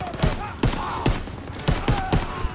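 Repeated gunshots ring out in Call of Duty WWII, about six sharp bursts spaced irregularly over a steady game background and loud in the foreground.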